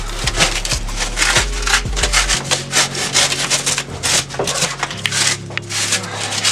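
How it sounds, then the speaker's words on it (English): Artificial rocks being carved and trimmed for an alligator cage, with loud, close, repeated scraping and rasping strokes in an uneven rhythm. "Trimming rocks, shaping them real cool."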